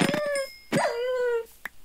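A tamed wolf in Minecraft whines and yelps in drawn-out pitched cries, close and clear, with a brief soft click near the end.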